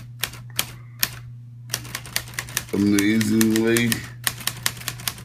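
Sharp, close clacks from the keys of an old manual typewriter, lid removed and ribbon still inked, struck at an uneven pace, with a person speaking briefly in the middle before the rapid strikes resume over a faint steady hum.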